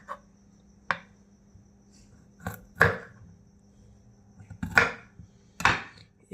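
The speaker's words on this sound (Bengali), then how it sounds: "এবার আমি ফুলকপিগুলোকে কেটে নিচ্ছি।" Knife chopping cauliflower into small pieces for pakora in a home kitchen, five or six sharp separate cuts spaced irregularly against a quiet background.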